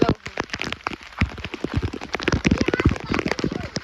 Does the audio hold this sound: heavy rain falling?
yes